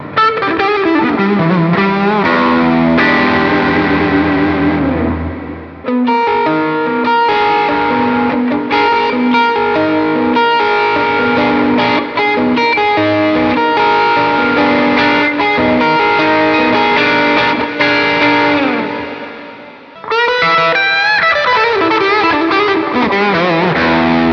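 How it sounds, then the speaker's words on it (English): An overdriven electric guitar through a Blackstar HT Club 40 MKII amp with a Tube Screamer, delay and reverb pedals, chords and lead lines soaked in delay and reverb, playing steadily with a brief pause near the end. "Here's the amp with some pedals. Again, a tube screamer, delay,"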